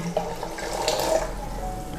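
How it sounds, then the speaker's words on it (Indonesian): Boiled water pouring into a blender holding soaked almonds, a steady close-up splashing rush lasting the whole moment, with no voices. "Kemudian tambahkan 400 ml air matang."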